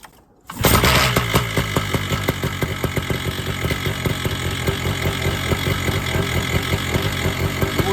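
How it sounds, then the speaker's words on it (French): A paramotor engine starts after a brief quiet moment and runs steadily at around 2500 rpm, a loud, close, buzzing two-stroke drone with a fast regular pulse. "Le moteur il a 2500 tours minute,"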